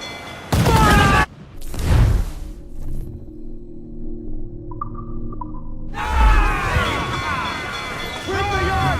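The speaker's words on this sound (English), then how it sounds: "Fire what cannons you will, and land a few strikes if you must." Ship cannons fire in Assassin's Creed 4 Black Flag, loud booming blasts with a long rumbling roar, then heavy crackling and splashing noise over a steady background din.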